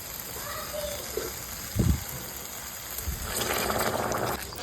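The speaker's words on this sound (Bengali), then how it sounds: "ফুটানো জল দিয়েছি আমি।" Boiled water pours into a pot of cucumber curry as a steady gushing splash, rising louder toward the end after a brief clatter.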